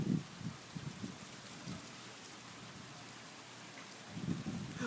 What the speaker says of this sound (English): Oh man, it is pouring.